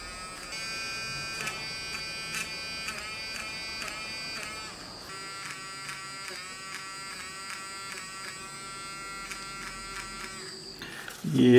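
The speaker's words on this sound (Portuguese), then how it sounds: "se você usar a borracha elétrica, quando você vê que não está apagando legal, você liga" Electric eraser buzzing against paper while erasing a drawing, a high, tonal motor whine pulsing on and off in short touches, steady and close, with a brief louder handling sound at the end.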